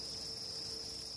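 Crickets in a crowded cricket farm box holding thousands of insects, a dense, continuous high-pitched chirring drone at steady level with no pauses, no voices.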